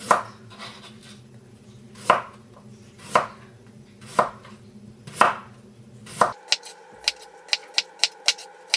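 A kitchen knife slices vegetables thin on a cutting board while making kimchi, with a steady series of distinct chopping knocks about once a second, then a quicker run of lighter, crisper taps near the end.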